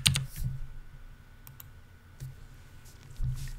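Sharp, quiet computer mouse clicks, a few isolated taps spaced irregularly over a faint background.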